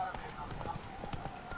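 Geralt's horse Roach trotting in the video game The Witcher 3: Blood and Wine, a faint, rhythmic clip-clop of hooves over steady background ambience.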